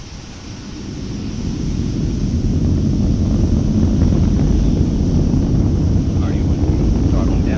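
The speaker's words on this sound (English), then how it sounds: "liftoff of the United Launch Alliance Atlas V rocket, carrying another 29 satellites for Amazon Leo" A United Launch Alliance Atlas V rocket lifts off carrying Amazon internet satellites, its loud broadband roar swelling over the first two seconds into a steady, heavy rumble that holds to the end.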